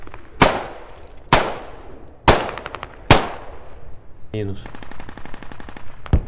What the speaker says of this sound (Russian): Все, кто-то стреляет.